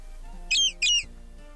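The royal pigeon pet in Hypixel Skyblock gives two quick, high squawking coos in a row, clear over a faint background hum.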